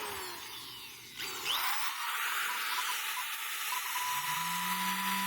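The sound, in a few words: power drill running on a power inverter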